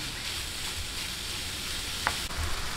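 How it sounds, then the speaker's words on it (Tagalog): Ground pork for sisig fries in a pan with a steady, close sizzle and crackle that stays even throughout, with no talking. "ilagay po natin sa ating pan yung ating giniling at bayaan po natin lumabas yung sarili niyang katas ba"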